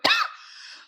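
A teacher gives one short, close cough during a spoken agriculture lesson, a sharp burst followed by a brief breathy tail.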